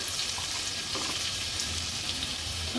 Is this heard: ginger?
yes